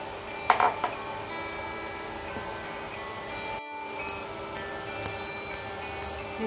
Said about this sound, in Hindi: इसे लगातार स्टर करते जाएंगे, स्टर करते हुए इसको अच्छी तरह से मिलाएंगे ताकि लम्स ना रहे